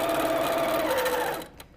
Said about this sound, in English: when sewing on binding